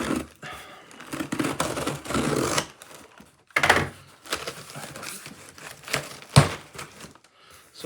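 Close, irregular snipping and crinkling as scissors work through cardboard, with scattered rustles and a couple of sharper snaps, no talking.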